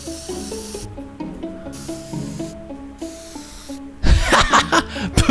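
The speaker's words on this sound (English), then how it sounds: "I got the spray can" A spray can spraying paint in the Teardown video game gives a loud burst of hissing spray near the end, following a stretch of game music.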